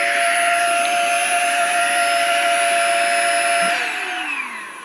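A GIGA Pump 3.0 air pump at medium power gives off a loud, steady whine and whir close by, then winds down, its pitch gliding lower as the noise fades at the end.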